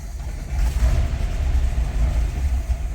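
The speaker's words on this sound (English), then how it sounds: "as I hit the key, it fires up. But without that air cleaner, whoop, it doesn't want to idle for me now" A 1984 Toyota Pickup engine running rough without its air cleaner, a steady low rumble that lurches and strains close by, struggling to hold an idle throughout with no voices.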